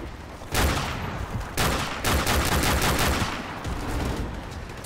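Automatic gunfire in Call of Duty: Modern Warfare Remastered, War Pig mission: several loud, dense bursts of rapid shots in quick succession, with brief gaps between them and no voices.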